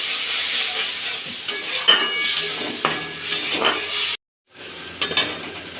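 Spice masala with a splash of water stirred and fried in a pan, giving a steady close sizzle broken by scraping spatula strokes and a few metallic clinks, with a brief drop to silence near the end.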